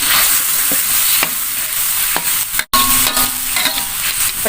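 Spice paste with lemongrass and salam leaves sizzles loudly in a pan with a continuous hiss, punctuated by scraping stirring strokes and one brief break in the sound.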